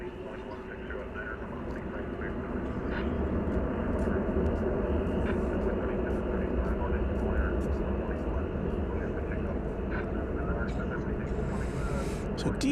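A DHL Boeing 767 cargo plane arrives at DFW Airport, its jet engines a broad steady roar that swells after the first few seconds and stays beneath ongoing talk.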